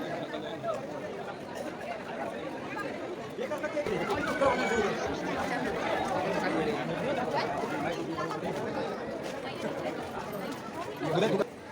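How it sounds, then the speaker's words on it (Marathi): A large crowd waits in a long queue at Omkareshwar Jyotirlinga temple, a steady dense hubbub of overlapping chatter and footsteps, close and continuous, swelling slightly toward the end. "खूप मोठी लाईन आहे मित्रांनो आणि खूप गर्दी पण आहे"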